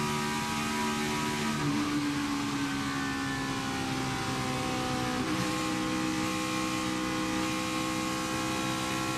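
Steady, loud roar of NASCAR race cars at over 210 mph, engines droning continuously with slight pitch shifts as cars pass, heard from inside or near a moving car.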